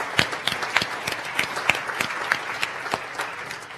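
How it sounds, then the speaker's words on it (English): An audience claps for the chefs and presenters at a culinary event on Asian-inspired desserts, lively crowd applause with sharp individual claps standing out, fairly loud and continuous. "We'll just clap for everybody."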